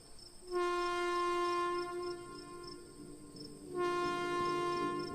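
A train whistle sounds in two long, sustained tonal blasts with a short gap between them, over a faint bed of night insects and a low rushing rumble that slowly fades.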